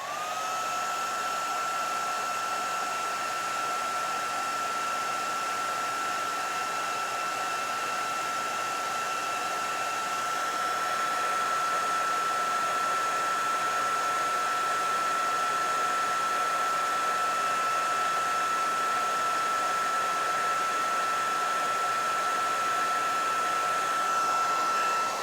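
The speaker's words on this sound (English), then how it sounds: "So I'm just going to go and blow dry it for time's sake." A hair dryer blows on a watercolor holiday card, a steady close whooshing drone with a constant high whine that runs unbroken for about twenty-five seconds with no talking.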